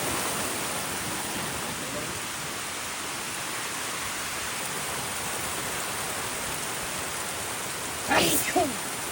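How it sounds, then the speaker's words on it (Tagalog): Heavy rain pours steadily at an outdoor pre-wedding photo shoot location, a dense continuous hiss. A brief voice cuts in near the end. "Sobrang lakas na ng ulan guys."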